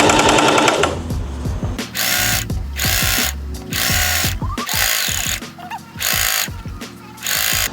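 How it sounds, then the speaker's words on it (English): Sewing machine stitching piping onto vintage Levi's denim for a circle bag, running in several short loud bursts with brief pauses between, close up. "And I'm stitching in small portions."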